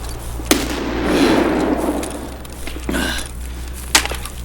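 Sharp gunshots ring out in the shooter game Escape from Tarkov: three separate cracks at uneven intervals, each short and punchy over a low, steady background rumble, with no voices.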